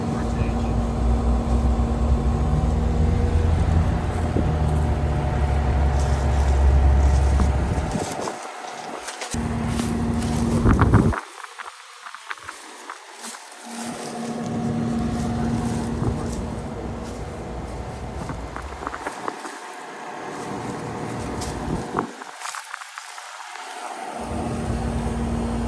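A vintage 1983 General Electric central air conditioner with its compressor wrapped in a metal sound blanket runs with a steady broadband whir and low hum. The low rumble drops away briefly a few times.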